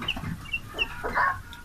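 Day-old chicks, broiler chicks fed a daily egg supplement, cluck and peep softly while pecking at new feed, with a steady low chatter of small birds close by and no voices.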